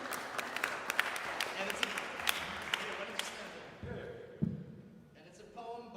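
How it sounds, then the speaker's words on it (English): A concert audience at a contemporary music festival gives scattered applause, with distinct individual claps at moderate volume that thin out and fade. A few thumps and a brief instrumental tone follow near the end. "give him some applause, give him some love"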